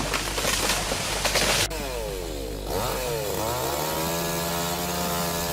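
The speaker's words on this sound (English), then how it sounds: "smoothly exploited with a small chainsaw he has brought down the tree" A small chainsaw fells a tree, its two-stroke engine snarling loud and close, first in a harsh full-throttle burst, then revving up and down in sweeping pitch as the cut continues.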